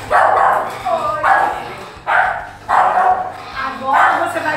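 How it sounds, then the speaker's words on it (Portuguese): A nervous Schnauzer barks indoors in repeated short bursts, about four or five clusters over several seconds. The barks are close and loud, with whimpering yips mixed in and someone talking at times. "ela vai latir muito, vai ficar bem nervosa"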